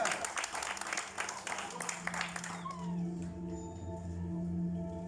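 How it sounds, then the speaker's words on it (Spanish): Congregation applause in a church service rings loudly for a couple of seconds, then cuts off, leaving a low sustained tone and faint room sounds. "Démosle un fuerte aplauso al Señor."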